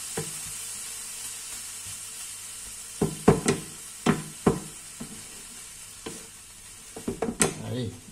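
Smoked broad beans in a pan give a soft background sizzle, then a run of scraping, knocking stirs from a utensil from the middle onward, close and uneven.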